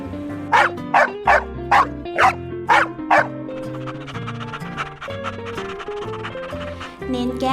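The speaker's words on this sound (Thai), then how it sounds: "ไปดูสิว่าเจ้าตาลน่ะมันเห่าทำไม" A dog barks at a village temple in Thailand: seven sharp barks in a quick, evenly spaced series, loud and close over steady background music, which then carries on alone.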